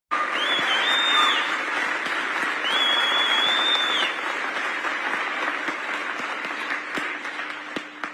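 An audience applauds steadily, with a couple of high whistles early on before the clapping gradually thins.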